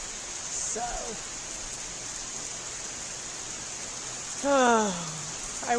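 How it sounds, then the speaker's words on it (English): Heavy rain pours steadily outside a house, a dense continuous hiss throughout, with brief bursts of a voice or bird-like calls partway through. "the rain is just pouring"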